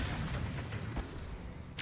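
Heavy Gauss rifle discharge in the RogueTech mech combat game, a dull booming shot amid continuous low rumbling battle noise, with a sharper burst near the end.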